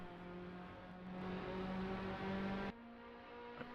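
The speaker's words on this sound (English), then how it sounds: "Sounds quite dainty on the throttle through there." Formula race car from a racing video game at Interlagos, its engine droning at a steady high pitch on throttle, then dropping abruptly to a lower tone as it lifts, heard from a distance with no talk.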